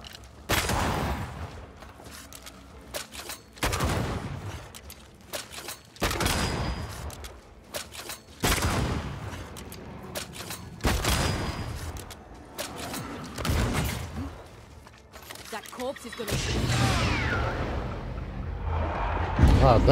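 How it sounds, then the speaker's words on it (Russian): Gunfire in the video game Banishers: Ghosts of New Eden, with a corpse-like enemy shooting: a series of loud, booming shots and bursts repeating every few seconds across the scene, fading between volleys, with a heavier blast near the end. "Этот труп собирается выстрелить."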